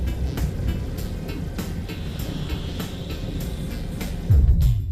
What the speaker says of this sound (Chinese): 曲率引擎启动。